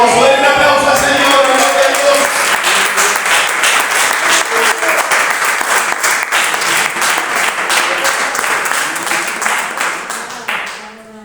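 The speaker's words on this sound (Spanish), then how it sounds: "Den un aplauso al Señor." A church congregation claps together in sustained, dense applause that starts loud and gradually thins, with a fading tail near the end; a voice speaks over the opening.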